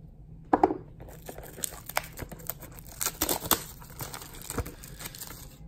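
Close crinkling and tearing of foil wrapping as a basketball card hobby box pack is ripped open, coming in irregular bursts of crackle and rustle with no voices.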